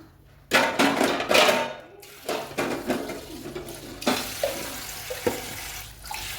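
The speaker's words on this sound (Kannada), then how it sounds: "ಇದ್ರನ್ನ ಸ್ವಲ್ಪ ತೊಳೆದು ನೀರು ಹಾಕೋಣ" Water splashes and pours in short bursts, with clattering of a metal pot or dishes between the gushes, close by in a kitchen while cooking mutton curry.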